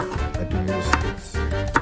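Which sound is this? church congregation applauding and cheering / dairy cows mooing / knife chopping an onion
knife chopping an onion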